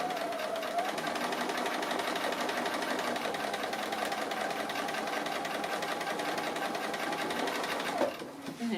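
A sewing machine stitches a tree applique circle in a quilting project, a steady, fast mechanical whirring hum running close and continuous for several seconds before briefly stopping near the end.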